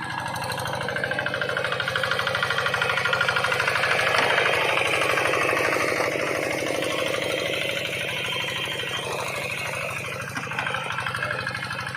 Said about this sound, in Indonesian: Ini traktor sambil duduk.